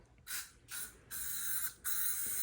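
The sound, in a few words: spraying cleaner onto headlight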